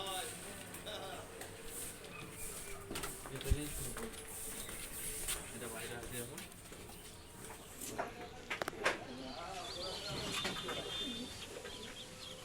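High-flyer and low-flyer pigeons in a loft coo softly and repeatedly in the background while a person talks over them, with occasional small chirps and rustles.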